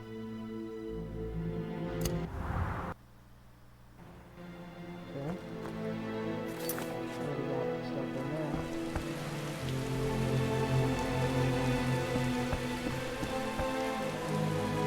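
Steady rain patters in The Witcher over a game music bed, soft and continuous, with a brief break and a few light hoof-like clops mixed in, and nobody speaking.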